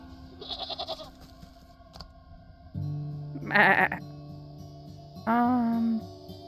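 A goat in the yard bleats in the video game Wytchwood, two loud wavering cries close by over soft background music, with no talk.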